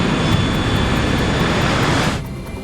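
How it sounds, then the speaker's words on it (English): An airliner speeds down the runway on its takeoff roll in winter, its jet engines a loud, steady roar that drops off sharply near the end. "As Flight 1713 speeds down the runway"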